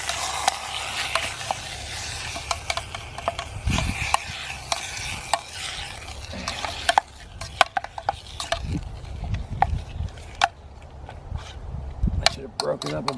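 Ground beef for Spanish rice sizzles and fries in a metal canteen cup over a camp stove, with scraping stirs at intervals and a low steady hiss throughout, close up, while someone speaks now and then.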